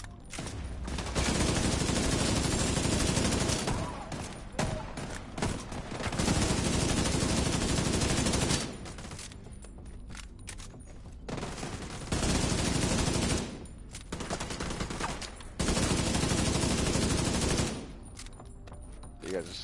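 Video game gunfire from The Division 2 comes in repeated loud, dense bursts of rapid shots, separated by short quieter gaps, across the whole stretch.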